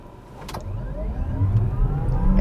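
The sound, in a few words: 2022 Kia EV6 electric car accelerating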